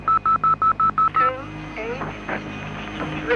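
Public phone box telephone being dialled: a quick run of about seven clear keypad tones in steady rhythm, followed by line noise and faint background sound.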